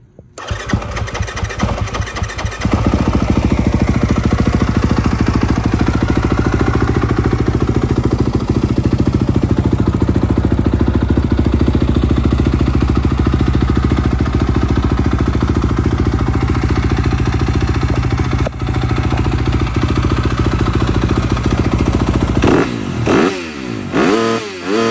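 A 2022 Yamaha YZ250F dirt bike with aftermarket upgrades starts with a few sputtering kicks, then idles loud and close for about twenty seconds before sharp revs near the end.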